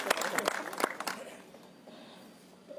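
An audience claps loudly to welcome MP Imtiyaz Jaleel at a live AIMIM political gathering. The dense applause is strongest at first, then fades to a softer patter before a short swell at the end.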